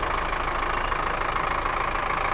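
A 2008 Mercedes engine idles at an outdoor market fair, a steady continuous mechanical drone with an even low rumble, close and fairly loud, with no talking over it.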